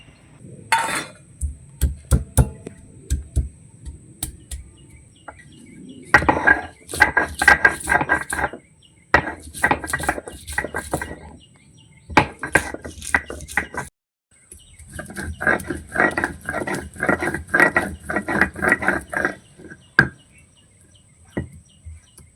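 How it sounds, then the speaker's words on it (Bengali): Peeled ginger and garlic are ground into paste in rhythmic bursts of scraping, grating strokes, loud and close, separated by short pauses. "আদা রসুনটা আমার ছাড়ানো হয়ে গেছে এবার এটা আমি বেটে নেবো"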